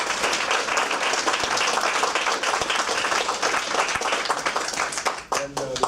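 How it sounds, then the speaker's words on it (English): Dense, loud audience applause for debate candidates, sustained clapping from a crowd that thins and breaks off near the end. "We say we give all these guys a round of applause."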